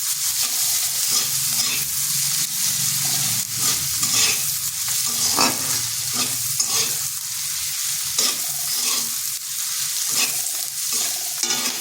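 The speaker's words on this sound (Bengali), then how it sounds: "এরপর পেঁয়াজটাকে হালকা একটু ভেজে নিচ্ছি।" Sliced onion frying lightly in a pan, with a steady sizzle throughout and repeated scraping clicks of stirring at an uneven rhythm, close and continuous.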